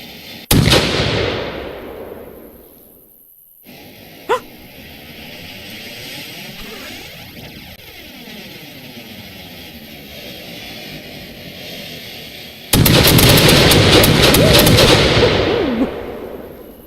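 Fireworks in the video game Break Fireworks Mania: a sharp blast opens, a lone crack follows, then a long whistling, sweeping build-up leads into a sustained, loud roar of dense crackling bursts that cuts off near the end.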